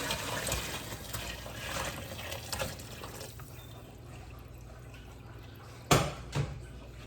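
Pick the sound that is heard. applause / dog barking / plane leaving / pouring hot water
pouring hot water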